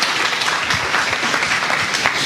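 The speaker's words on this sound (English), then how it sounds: "make applause to James" Audience applause at an academic talk for speaker James Pritts, a steady wash of many hands clapping throughout, sustained and fairly loud with no voices over it.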